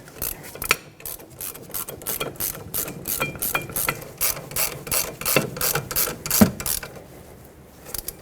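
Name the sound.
ratchet tightening caliper bracket bolts on a Hyundai Sonata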